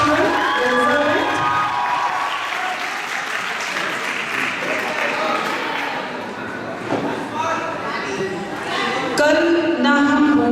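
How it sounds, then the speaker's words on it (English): A room of children claps and cheers after a performance, a dense, loud burst of applause with high shouts and whoops running throughout, while voices call out and speech rises near the end. "Give them a big round of applause, children."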